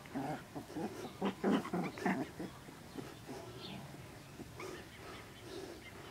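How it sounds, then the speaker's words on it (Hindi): A very young puppy, under fifteen days old, gives a few small yips and barks, close and fairly soft, mixed with someone talking nearby. "ये देखिए फ्रेंड्स भौंकना शुरू कर दिया।"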